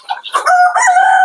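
Backyard chickens call out close and loud, a short squawk rising into a sustained crowing-like cry that fills the moment on its own.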